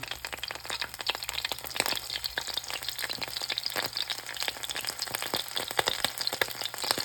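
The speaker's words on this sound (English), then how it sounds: "You can hear it sizzling." Continuous crackling sizzle of broccoli frying in a hot pan, dense popping and hissing throughout at steady moderate loudness, with no talking.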